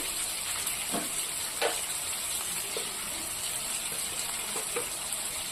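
Onions frying in a pan with a spoon of salt and turmeric make a steady broadband sizzle, and a few soft stirring scrapes come through near the mic without talk.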